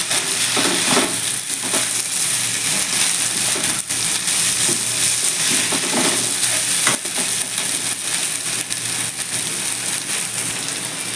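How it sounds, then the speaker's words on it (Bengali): Rice frying in a pan with a little turmeric while it is stirred for pulao, giving a steady, close crackling sizzle with scraping stir sounds throughout, no talking. "এবার আমি এর মধ্যে একটু সামান্য হলুদ দিয়ে দেবো দিয়ে চালটাকে একটু ভালো করে ভেজে নেব"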